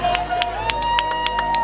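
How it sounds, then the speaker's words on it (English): Rival endurance race teams in the pit area clap and cheer as a repaired car returns, with evenly spaced sharp claps standing out over a continuous crowd murmur and a steady hum. "The crowd erupts, we erupt"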